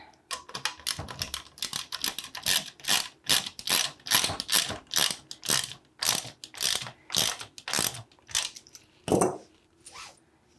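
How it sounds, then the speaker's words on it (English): A ratchet tightens lock nuts onto the rod of an EarthWay 2600A-Plus residential broadcast spreader. Some twenty sharp, rhythmic clicking bursts repeat steadily and close up, with brief pauses between strokes and no talking. "And then we're putting our lock nuts on the end."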